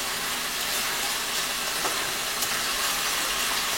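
Ginger garlic paste frying with onions in a pan: a continuous bright sizzle and hiss, steady and close, with no voices.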